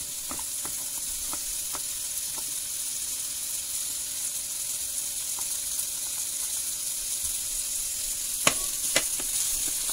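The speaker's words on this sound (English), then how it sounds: "fry it. Then the carrot and the green bean." Carrot and green beans frying in oil for a lamb chop dish, a constant bright sizzle with occasional sharp pops and crackles, close and unbroken by speech.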